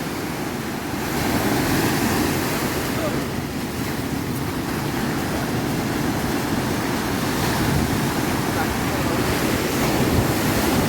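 Loud, steady roar of rough sea surf after rain where sea meets river on the Kerala coast, with constant crashing waves and wind buffeting the microphone.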